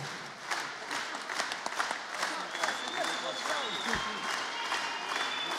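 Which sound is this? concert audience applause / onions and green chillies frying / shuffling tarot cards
concert audience applause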